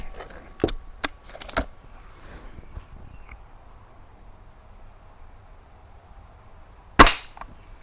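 An air gun fires at targets in a quiet outdoor setting. Several sharp cracks arrive in a quick cluster early on, followed by a pause and then one louder close shot near the end.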